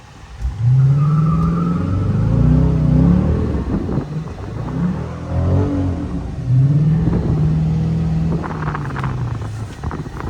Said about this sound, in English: Hey, at least it can do burnouts. It was spinning both wheels.